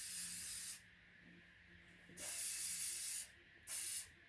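Hairspray is sprayed onto hair in three aerosol hisses, two long and one short, close and clear against a quiet room.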